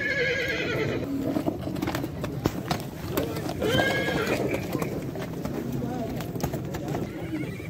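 Horses at a livestock market neigh and whinny repeatedly amid steady hoof clops, with a busy crowd of voices talking throughout.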